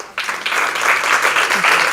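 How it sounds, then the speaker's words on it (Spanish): After a documentary screening, an audience bursts into applause following a brief quiet moment. The dense clapping quickly swells to a full, steady level and carries on evenly to the end. "Un aplauso para Caupolicán Ovalles"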